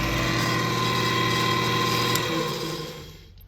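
Kearney & Trecker Midgetmill vertical milling machine head motor running with a steady high whine and hum, then spinning down and fading over the last second or so.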